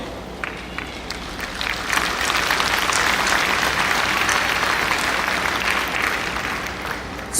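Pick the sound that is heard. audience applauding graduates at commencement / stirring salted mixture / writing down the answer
audience applauding graduates at commencement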